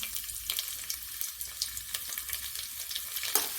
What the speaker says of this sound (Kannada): ಸಾಸಿವೆ ಚಟಪಟ ಅಂದ ತಕ್ಷಣ ಬೆಳ್ಳುಳ್ಳಿಯನ್ನು ಹಾಕಿಟ್ಟಿದ್ದೀನಿ ಬೆಳ್ಳುಳ್ಳಿ ಸಹ ಹಾಕೋತಿದ್ದೀನಿ